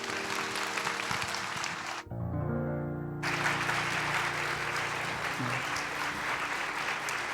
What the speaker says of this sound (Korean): 더 뜨겁게 박수로 청하겠습니다